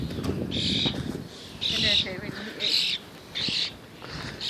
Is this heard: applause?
no